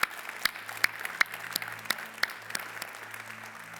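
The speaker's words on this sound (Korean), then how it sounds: "우리 하나님께 감사의 박수를 올리겠습니다." A church congregation at a Thanksgiving Sunday service claps in thanks, soft scattered applause with a few sharper individual claps over a low steady hum.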